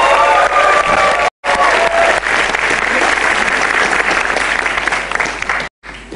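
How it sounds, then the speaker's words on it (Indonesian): Stand-up comedy audience applauding and cheering loudly, a dense, sustained roar of clapping with whoops, close and full, briefly cut off twice. "Kalau begitu boleh tepuk tangan untuk Cah Lontong."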